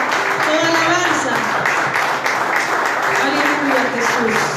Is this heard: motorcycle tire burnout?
no